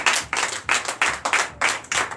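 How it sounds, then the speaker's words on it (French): Rhythmic clapping in quick, even bursts, like a small group applauding together at close range during a Sunday church service in Benin. "Donc je vous demande d'applaudir très fort."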